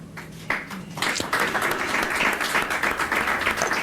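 An audience bursts into applause at a political speech, beginning with a few claps and swelling after a second into dense, sustained clapping that carries on to the end.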